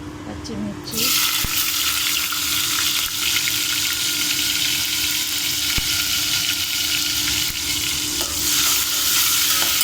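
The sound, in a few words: green chillies and onion frying in hot oil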